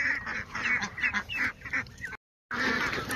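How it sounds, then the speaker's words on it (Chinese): Ducks and geese on a village farm, a close, loud jumble of honks and quacks in rapid overlapping bursts, broken by a brief silent gap before the calls resume. "你看，这里有几伙鸭子"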